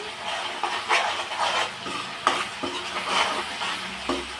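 Ginger garlic paste sizzling and frying in a pan for chicken biryani, with steady hiss and repeated scraping strokes of a spoon stirring against the pan, close and continuous.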